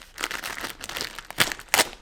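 Plastic bag holding LEGO instruction booklets crinkling close up in irregular bursts, with two sharper, louder crackles near the end.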